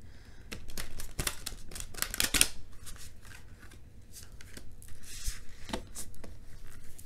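Tarot cards are shuffled close by in quick bursts of crisp riffling and slapping, pausing briefly before another round.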